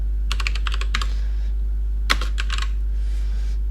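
Fingers typing on a computer keyboard, two short bursts of rapid, crisp key clicks separated by a brief pause, close up over a low steady hum, with nobody talking.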